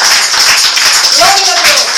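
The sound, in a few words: congregation clapping in church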